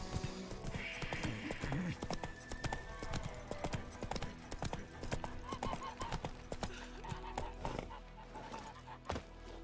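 A horse gallops in the fantasy video game Witcher 3, giving a steady run of rhythmic hoof clip-clops with faint tack jingles and game ambience in the background, with no talk.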